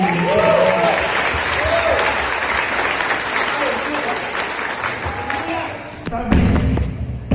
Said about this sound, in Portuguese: Você pode aplaudir aquele que é digno.